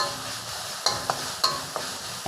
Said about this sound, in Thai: ใส่ใบกะเพราครับ ใบกะเพราเยอะๆเลยครับ ผัดแบบแห้งๆครับ